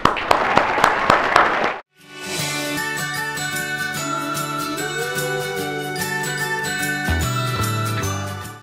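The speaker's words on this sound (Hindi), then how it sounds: "मैं चाहता हूँ सभी लोग ज़ोरदार तालियों से रीता बहुगुणा जोशी का स्वागत करें।" A studio audience greets political guest Rita Bahuguna Joshi, MP from Prayagraj, on a talk show: a brief burst of claps gives way to a loud, steady swell of jingling music that fills the rest of the moment.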